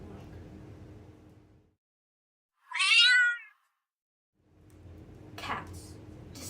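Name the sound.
cat meowing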